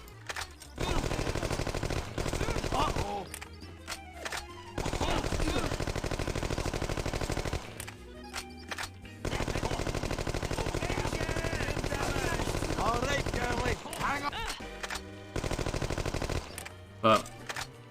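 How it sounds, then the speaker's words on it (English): Rapid bursts of Tommy gun fire in the spy shooter No One Lives Forever 2, loud and sustained with short pauses between volleys, mixed with game sounds. "it's a shame with this Tommy gun, so inaccurate."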